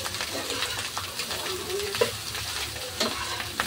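Fried rice sizzling in a pan while being stirred, a steady close hiss broken by scraping turns of the spatula.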